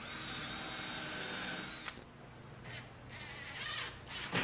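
A power drill whines steadily while pre-drilling screw holes in wood, then cuts out, followed by a few short bursts of drilling.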